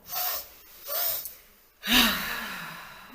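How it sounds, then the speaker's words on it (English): Slow guided breathing in a group relaxation session: two soft audible inhales through the nose, each a short airy sniff, then a long steady breathy exhale, close and quiet. "let's do 2 inhales through the nose with our shoulders and release with a long exhale"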